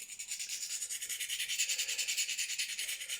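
Knife blade drawn by hand across Venev diamond sharpening stones, a quiet, steady run of rhythmic scraping strokes, close and alone.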